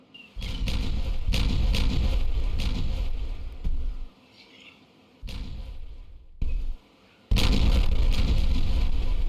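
Detonated explosions come in several separate bursts, each a loud rumbling blast lasting a second or more, divided by short quiet gaps, with the final one heavy and sustained.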